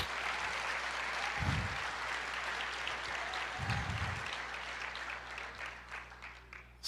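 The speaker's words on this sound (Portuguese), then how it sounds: "Aplauda o Senhor" A church congregation applauds at length, a steady wash of many hands clapping that fills the whole stretch and fades slightly toward the end, with no talk over it.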